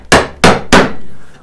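Three hard, evenly spaced blows pound on wood while a mortise is cut, close and loud, with each strike ringing briefly before the next.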